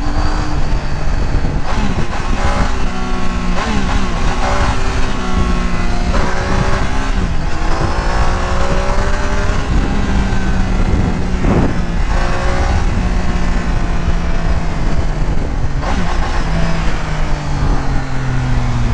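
A remapped Triumph Tiger 800 motorcycle roars loudly and close throughout, its engine note climbing and dropping through repeated gear changes as it accelerates hard, with no talking.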